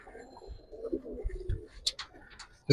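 Giribaz and coloured pigeons coo in a farm loft, soft low calls repeating through the stretch, with a few sharp knocks and clatters and a loud bang at the very end.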